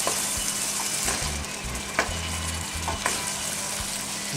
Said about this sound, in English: And so now I'm just going to saute this real quick.